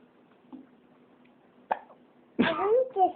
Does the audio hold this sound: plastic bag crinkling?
no